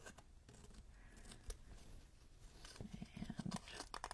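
Scissors cut through paper while a wintertime vignette is being built with brick, cobblestone and transfer backgrounds, heard as soft close snipping that grows into a quick run of cuts near the end, faint and with no talking.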